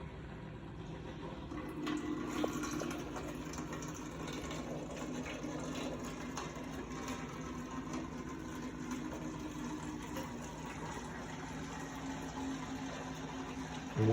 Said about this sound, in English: I'm just going to pour it through this filter.